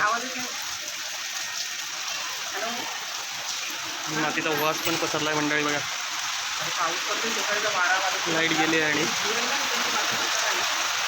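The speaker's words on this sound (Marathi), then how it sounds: "पावसाचा आवाज आहे." Steady hiss of heavy rain falling fills the scene continuously, with a person speaking over it in the middle.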